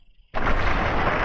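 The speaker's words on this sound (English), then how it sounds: "Ooh, explosions." Explosions in Fallout 3 erupt abruptly after a brief quiet moment, a loud sustained roaring blast that fills the rest of the short clip with dense rumble.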